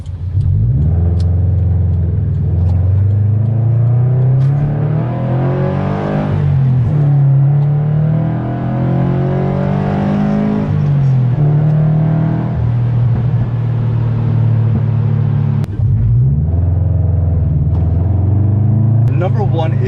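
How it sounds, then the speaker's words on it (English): A Subaru BRZ sports car accelerates hard, its mid-range engine rising steadily in a loud, continuous rumble that climbs through the revs with brief dips at gear shifts around the middle and near the end. "we'll do a quick acceleration to get this video going"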